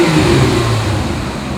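A 1999 Plymouth Prowler sits running with a close, steady low rumble and a slight wavering hum as it idles, loud and alone with no voices.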